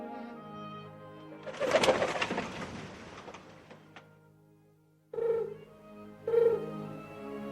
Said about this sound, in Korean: 별이 청청한 밤 비둘기 한 마리가 아파트 단지 위를 맴돌고 있었습니다.